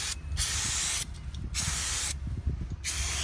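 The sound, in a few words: brake cleaner sprayed onto a brake rotor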